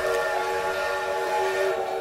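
Train whistle sounding as the train is about to leave, a steady sustained tonal blast held for about two seconds at moderate distance, with no talk over it.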